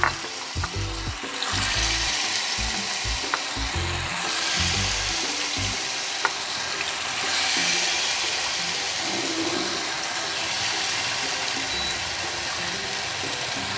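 Sago pakoras fry in hot oil, a dense, continuous bubbling sizzle held close and fairly loud, with a few soft knocks early on and no speech.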